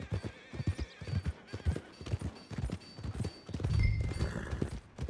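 Horse hooves clip-clop in a steady rhythm with loud neighing and whinnying in Red Dead Redemption 2, close and continuous, with a stronger snort partway through.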